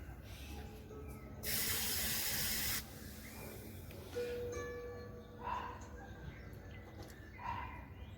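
Water sprays onto a potted pitanga (Surinam cherry) pre-bonsai in cascade style to soak its soil. One loud hissing burst lasts under two seconds, followed by quieter rustles and faint background sounds.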